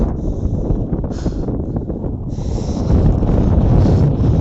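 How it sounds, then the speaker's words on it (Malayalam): Strong wind roars continuously against the microphone on a hilltop at Thangal Para, Vagamon, buffeting and rushing, growing louder toward the end, with no voices. "നല്ല കാറ്റ് വരുന്നുണ്ട് നല്ല കാറ്റ്"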